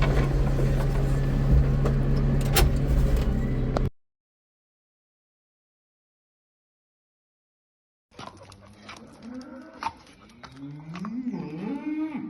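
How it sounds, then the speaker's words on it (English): Cattle mooing in farm yards being upgraded, several loud calls over a steady background hum, a sudden silent gap of about four seconds, then bellowing cattle returning with rising and falling moos. "Better get these cattle fed."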